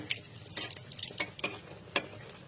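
Battered eggplant fritters (beguni) frying in hot oil with oil ladled over them, a faint crackling sizzle broken by several light scraping and tapping sounds, close and quiet, without speech.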